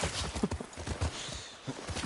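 Horse hooves clip-clop in The Last of Us Part II, a steady, fairly close run of hollow knocks in an even walking rhythm with no voices over it.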